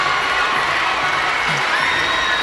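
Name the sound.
basketball fans cheering in arena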